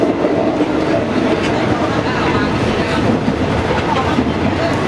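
A Thai train setting off from Bangkok Noi station rumbles steadily in a loud, continuous interior ride noise with faint rhythmic wheel clatter throughout.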